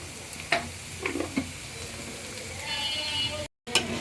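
Onion and garlic fry in a pan with a steady low sizzle, broken by a few scraping stirs and utensil taps, close and fairly quiet with no talking.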